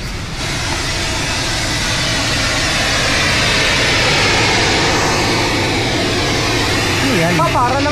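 An airplane passes overhead near a waterfall and beach, a loud broad roar that swells and holds steady, with a voice briefly heard near the end.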